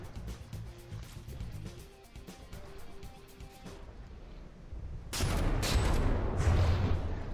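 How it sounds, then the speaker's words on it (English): Artillery shells fire in a From the Depths naval battle, heard as a rapid series of muffled booms and crackles. Louder, denser blasts burst in near the end. "Just all those shells streaking through the air."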